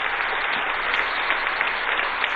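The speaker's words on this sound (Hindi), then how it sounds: "दोनों हाथ उठा के ताली बजा के स्वागत कीजिए" An audience at an Indian gathering applauding in welcome, a dense, steady wash of many hands clapping together, loud and sustained without a break.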